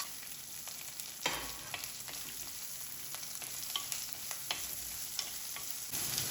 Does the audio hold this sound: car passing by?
no